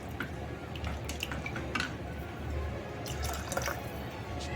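Water poured into rice in a pressure cooker pot for a Guru Poornima thali, a steady close trickling and dripping that runs for several seconds with no talk.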